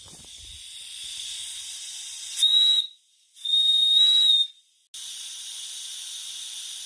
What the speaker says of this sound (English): to the left side is the whistle. Let's start with the whistle